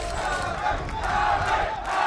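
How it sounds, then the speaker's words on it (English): A large arena crowd at a Valorant esports match between NRG and FURIA cheers and roars continuously, a dense, loud wash of voices without a break. "The crowd getting behind one of our youngest players here as well."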